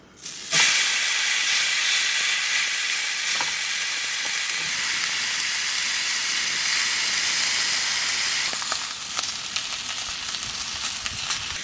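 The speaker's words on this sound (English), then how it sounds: "Now that it's nice and hot, I can throw on the steak." A steak searing on a very hot cast iron pan at a mountain campsite: a sudden loud sizzle bursts in and holds as a steady, close hiss of frying and steam, with faint scrapes near the end.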